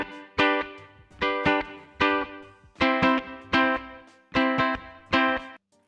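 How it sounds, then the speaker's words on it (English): A Populele 2 Pro smart ukulele recorded direct from its preamp pickup output through a jack cable into an audio interface gives bright, clean strummed chords, about seven strong strums in a steady rhythm, close and alone with no talk. "But I've also recorded the picked up sounds from the preamp,"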